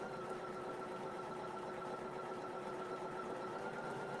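A sewing machine stitches quilt blocks for a butterfly garden hanger with a steady, even, fast mechanical whir that holds at constant level, close and alone.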